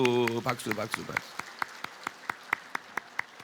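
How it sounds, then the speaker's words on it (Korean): A church congregation at a Sunday service claps vigorously, starting over a brief burst of voices and settling into a steady run of sharp, evenly spaced claps that carry on alone. "먼저 처음 힘차게 박수."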